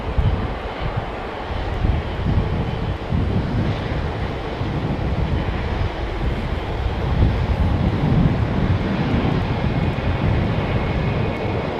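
An aircraft taxiing at London Heathrow Airport gives a steady, loud engine roar that holds throughout, mixed with wind buffeting the microphone and no talking.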